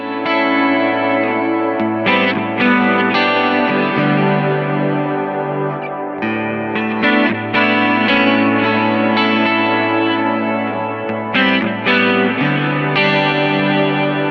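Sustained electric guitar chords and notes from an ESP LTD EC-1000 neck pickup ring out alone, smooth and warm, with a touch of chorus and echo, changing every couple of seconds.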